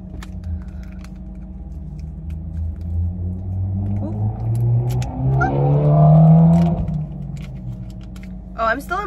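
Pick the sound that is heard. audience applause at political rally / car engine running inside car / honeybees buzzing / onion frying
car engine running inside car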